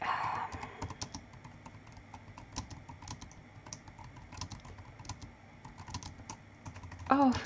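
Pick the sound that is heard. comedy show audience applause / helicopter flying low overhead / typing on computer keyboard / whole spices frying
typing on computer keyboard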